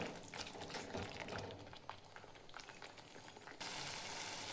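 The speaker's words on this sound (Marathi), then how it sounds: "मसाले छान असे शिजवून घ्यायचे" Masala spices bubble and sizzle in oil in a pan for rajma, a soft, close, continuous frying crackle with faint stirring, heard quietly without talk.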